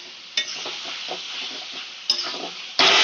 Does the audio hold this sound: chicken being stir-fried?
yes